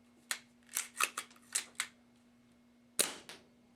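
Snow Wolf M99 airsoft sniper rifle, fitted with a modified hop-up, fires with sharp snapping cracks among several quick clicks and clatters of handling, close and crisp in a quiet room.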